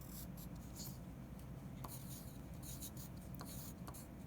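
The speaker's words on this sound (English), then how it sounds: "I'm going to write Leaf." A pencil handwriting a word on paper, soft scratchy strokes in short irregular bursts, quiet and close with a steady low background hum.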